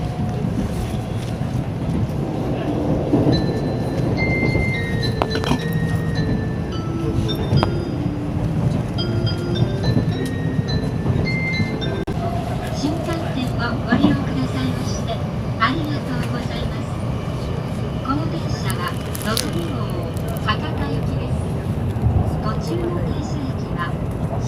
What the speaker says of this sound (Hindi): वैसे आपको देख करके नहीं लगेगा कि ये ट्रेन फिलहाल अभी 300 किलोमीटर पर आवर की स्पीड से चल रही है।